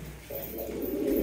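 Black high-flying pigeons kept indoors coo in a soft, low, continuous burble that sounds close and fills the short moment.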